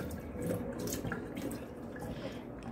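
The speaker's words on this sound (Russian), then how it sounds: "промываем сначала с веточками." Strawberries with their stems still on are rinsed under running water, a steady close splashing flow with faint drips and no talking.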